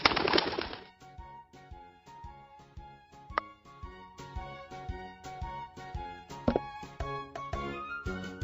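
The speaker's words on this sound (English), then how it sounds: "Pigeon." Pigeon cooing plays in a cartoon animal puzzle game, soft rhythmic coos mixed with repeated game clicks and chimes, fairly quiet and steady throughout without talk.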